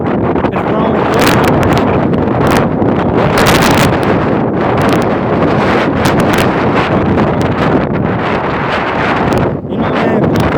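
Hurricane Delta winds roar steadily and loudly, buffeting the microphone in dense gusts with rustling, barely easing for a moment near the end.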